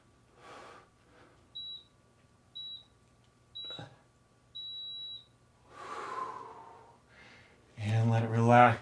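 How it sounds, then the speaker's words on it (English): A workout timer sounds four short, sharp, high beeps in an even rhythm followed by one longer beep, close and clear, between breathy sounds and a person speaking. "my timer says we're done"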